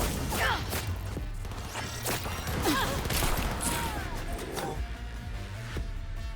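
Gunfire in the video game Cyberpunk 2077 keeps up as repeated sharp shots and impacts over a busy, constant background of game noise, some shots louder and closer than others.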